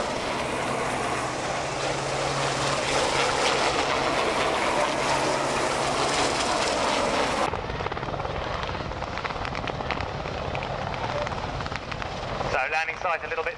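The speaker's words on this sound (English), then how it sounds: "with the Apache helicopter still providing covering fire" Military helicopters including an Apache and Sea Kings thunder through a commando assault display at Yeovilton Air Day, a loud, continuous rotor roar dominating before a sudden drop to a thinner rumble, with an announcer speaking near the close.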